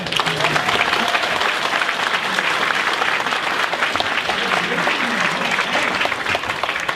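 An audience claps loudly and steadily for several seconds at a fan-convention interview panel, dense applause with faint crowd murmur underneath.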